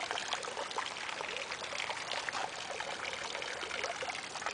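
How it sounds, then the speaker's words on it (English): Rainwater running off a large roof pours steadily out of downspout hoses, a dense, constant splashing rush heard close up with no break. "This water here is coming off of it. It's coming off of all that roof up there."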